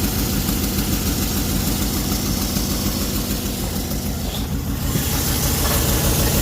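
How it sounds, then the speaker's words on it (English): A 2015 Chevrolet Silverado 1500 4x4 with a 5.3L V8 idles steadily up close after a starter replacement, a constant low rumble with mechanical vibration and no talk. "there is the sound of the engine working. It's running right now."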